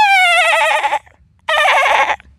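A man imitates an old goat bleating, two loud, wavering nasal cries close up, each about a second long and separated by a short pause.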